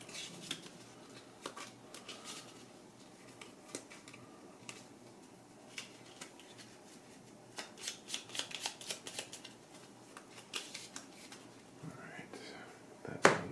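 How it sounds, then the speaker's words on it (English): Attack modifier cards from the board game Gloomhaven: Jaws of the Lion are shuffled by hand, giving steady soft riffling and flicking close by, with quiet clicks and no speech. "Shuffle these up here a little bit."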